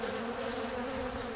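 Robber bees swarm and fight at a backyard beehive, a dense, steady buzzing of many insects held close and continuous with no voices.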